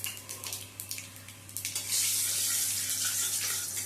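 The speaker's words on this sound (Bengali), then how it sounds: "সেই তেলের মধ্যে কালো জিরে ফোড়ন দিয়ে দিচ্ছি।" Nigella seeds hit leftover hot oil in a pan after ridge gourd has been fried, for a light Bengali fish curry, giving a close crackling sizzle with quick pops at first that swells into a steady hiss.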